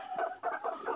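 Jersey Giant hens clucking in a backyard coop, a quick run of short soft clucks in close succession, near and moderately quiet.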